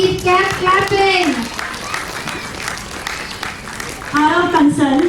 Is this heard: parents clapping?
yes